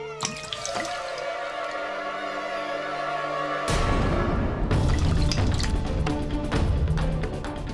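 Water splashes and trickles continuously, first as a lighter pour, then a fuller, louder gush with dripping and splattering, in a scene at the holy Ganga river.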